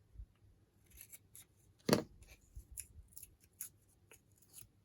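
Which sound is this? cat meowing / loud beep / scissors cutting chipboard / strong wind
scissors cutting chipboard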